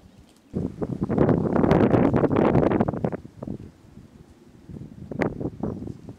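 Gusty wind buffets the microphone outdoors in loud, rumbling bursts, easing off midway and then rising again in a second, briefer gust.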